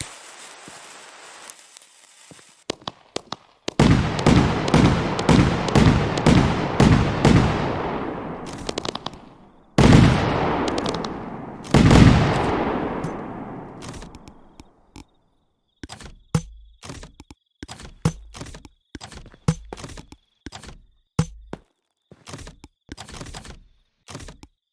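Fireworks burst in the video game Fireworks Mania: rapid volleys of booming explosions, then sparse crackling pops and sharp bangs scattered at irregular intervals, loud and close.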